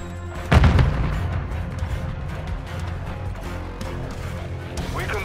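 Semtex sticky grenade going off in a Call of Duty: Modern Warfare II multiplayer match, a sharp close boom followed by rumbling battle noise and scattered gunfire, with game voice chatter underneath.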